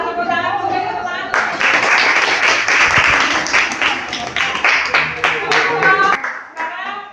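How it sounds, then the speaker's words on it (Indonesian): Classroom students applauding together after a group presentation, a dense burst of many hands clapping that swells and then fades, with a teacher's voice heard before and after. "kita tepuk tangan, beri tepuk tangan."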